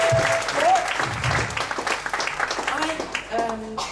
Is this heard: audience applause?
yes